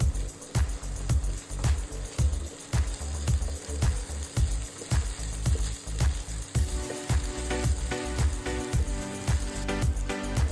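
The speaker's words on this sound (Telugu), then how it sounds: "ఇలా దోరగా వేయించిన తర్వాత అల్లం వెల్లుల్లి పేస్ట్ వేసి పచ్చివాసన పోయే వరకు బాగా వేయించుదాం." Onions frying in a pan with ginger garlic paste, a steady close sizzle broken by regular rhythmic scraping and stirring strokes, loud and continuous with no talking.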